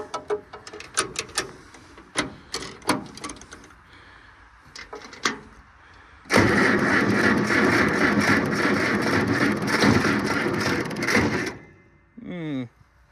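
Tractor with a weak battery cranking during hay season: a series of clicks and knocks, then several seconds of loud, steady, grinding starter noise that cuts off, followed by a brief mechanical whir.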